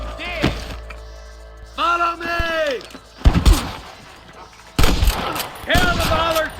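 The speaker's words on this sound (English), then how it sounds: "I can hear more gunshots." Red Dead Redemption Remastered gunfire rings out in sharp bursts amid music and other game sounds, with a voice talking intermittently between the shots.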